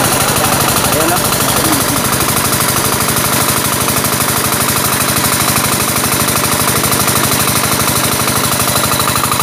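A rotavator engine runs in a farm field with a loud, continuous rapid chugging and knocking rumble that stays steady and close throughout, with no pauses.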